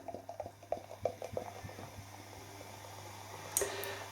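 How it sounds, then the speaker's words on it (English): Chimay Tripel White Belgian beer pours into a glass, with a few quiet splashes and drips at first, then a soft, steady fizz and a faint clink near the end. "it's not really pouring out like a white beer"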